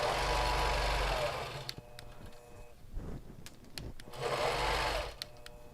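Sewing machine stitching quilt backing on a quilting frame: a loud, fast whirring run that stops, a quiet pause with small clicks, then a second stitching burst before trailing off.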